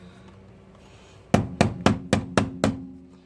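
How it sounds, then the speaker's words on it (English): Six sharp, evenly spaced hammer blows tap an Alloygator rim protector onto a Tesla Model 3 wheel, each strike close and loud with a short ringing decay, after a quiet stretch. "I'm hammering up and in, sort of like that."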